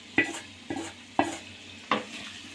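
A spoon stirs browned deep-fried onions into sizzling mutton boti fry in a pan, four distinct scraping strokes about half a second apart over a low, steady fry hiss, close and clear with no talking.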